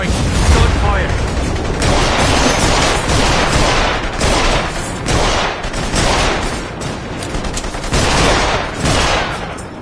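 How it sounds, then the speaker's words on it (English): Loud, near-continuous gunfire in The Saboteur video game, rapid overlapping bursts pulsing through the whole stretch with no pauses. "Gunfire!"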